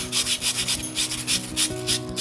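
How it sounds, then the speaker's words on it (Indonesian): Sandpaper rubbed by hand along a black-coated shaft of an electric fan under repair, steady back-and-forth strokes about three per second, close and loud with a faint motor hum beneath. "kita bisa amplas sobat, jangan terlalu ditekan ya"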